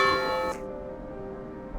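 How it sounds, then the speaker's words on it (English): Church clock bells chiming in a Norfolk church, a ringing bell tone with long sustained overtones that cuts off abruptly, leaving a fading reverberant hum before a faint new strike. "Trust me to come here when the clock's chiming."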